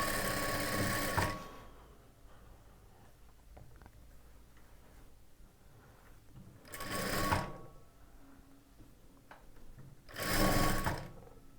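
A sewing machine stitches fabric lining in three short bursts of fast, rattling needle clatter, separated by quiet pauses.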